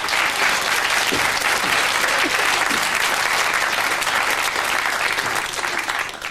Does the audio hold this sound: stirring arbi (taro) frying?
no